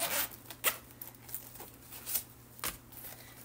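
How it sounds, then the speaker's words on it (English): Zipper on a crossbody bag run back and forth in several quick rasping strokes, close and fairly quiet, with short pauses between pulls and no talking. "And the zipper works just fine and closes just fine."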